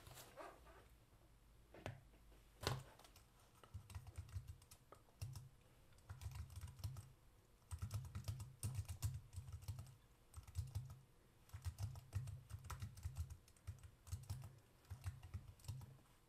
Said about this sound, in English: maybe let me type it, it'll be quicker.